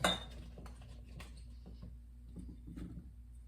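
Cucumbers and onions added to a glass jar for fermented pickles, with light clinks and soft knocks of produce against glass at close range, scattered over a few quiet seconds.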